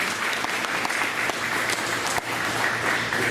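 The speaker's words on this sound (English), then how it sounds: "Let's give Cadet Private First Class Santiago Diaz a big round of applause" An audience at a school district board meeting applauds a cadet private first class, a steady wash of clapping from many hands that holds evenly throughout, moderately loud and filling the room.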